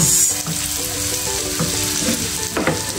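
Garlic frying in margarine for fried rice sizzles and crackles steadily in a pan, with occasional stirring scrapes, close and fairly loud throughout.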